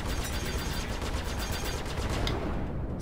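Spaceship support gunfire in the Star Citizen space combat game, a steady rapid stream of loud automatic shots continuing without a break across the whole stretch, with no talk over it.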